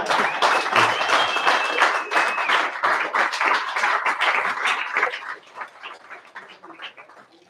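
A bar audience at a cocktail masterclass in Zürich claps in a dense burst that thins into scattered, uneven claps toward the end, with a few bright tonal squeaks early on.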